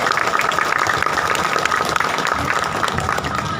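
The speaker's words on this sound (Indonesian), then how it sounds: "Boleh kita beri tepuk tangan untuk mereka." Crowd applause at an outdoor community inauguration event in Jakarta, a steady, dense wash of clapping that fills the whole stretch without pause.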